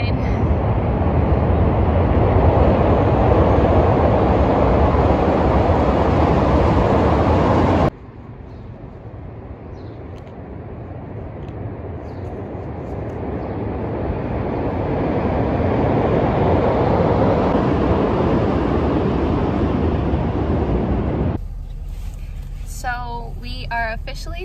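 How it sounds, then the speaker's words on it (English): A blue line train rolls past a bike path as a loud, steady broadband rumble that cuts to a quieter wash, swells again and trails off, with people briefly talking at the end. "Oh, the train. The blue line."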